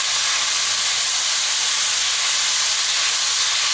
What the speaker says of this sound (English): I'm actually going to add the onion, the 6 tablespoons of parsley, and the garlic. So I'm going to go ahead and add that to the pan.